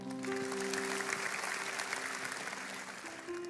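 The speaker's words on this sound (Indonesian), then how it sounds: "Tuhan seperti itu yang kau punya, kasih tepuk tangan untuk Tuhan." Church congregation applause, a steady dense clapping that fills the room and holds at moderate loudness, with faint tones in the background.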